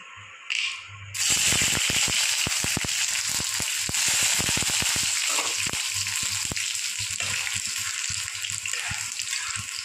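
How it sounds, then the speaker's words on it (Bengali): Garlic drops into hot oil in a wok and fries with a sudden loud sizzle that then holds steady, broken by scattered sharp crackles and pops. "আমি ভেজে নেব রসুন।"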